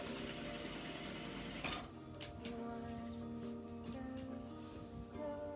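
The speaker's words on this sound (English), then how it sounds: "first we're going to stitch right here at 1/4 inch. And I'm going to back stitch a few times" A sewing machine stitches fabric a quarter inch from the edge, its fast rhythmic whir running close and steady, then halting into a few short bursts with faint clicks as it back stitches.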